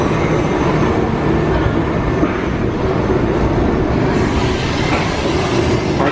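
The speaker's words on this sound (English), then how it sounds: "Our train is here." A train pulls in at Disney's Animal Kingdom with a continuous loud rumble and rolling clatter of wheels on track, close by and steady for the whole stretch.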